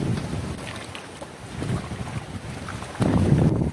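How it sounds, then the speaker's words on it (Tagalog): Strong outdoor wind roars and buffets the microphone on a farm, with a heavier gust surging near the end; no voices. "Lakas ng hangin."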